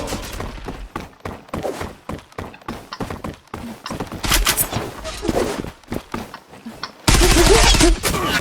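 Rapid gunfire from the online shooter Zula crackles in dense bursts and single sharp shots, with loud sustained volleys near the middle and end, mixed with game sounds.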